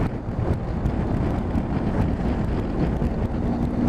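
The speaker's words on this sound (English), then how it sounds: "Fierce fucking windy now that I'm out on this road." Strong, steady wind roars and buffets the microphone on an open road while riding a motorcycle, a loud continuous rumble with no talking.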